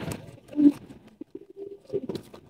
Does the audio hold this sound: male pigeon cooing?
yes